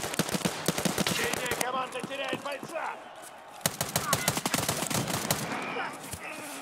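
Rapid gunfire from an STM-9 in the video game Escape from Tarkov Arena: close, crisp bursts of shots in quick succession, with a brief lull in the middle before another flurry.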